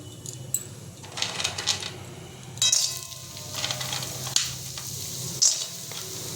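Bori lentil dumplings fry in mustard oil in a pan, giving a steady close sizzle with bursts of crackle and occasional light metallic clinks of stirring; no voices.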